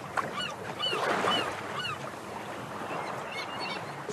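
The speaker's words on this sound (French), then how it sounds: "le bruit des oiseaux, le bruit de l'eau sur la coque" Gentle water sloshing against the hull of a sailboat moving under wind alone, with no motor, off Bréhat, under soft wind, with faint bird calls chirping in the distance.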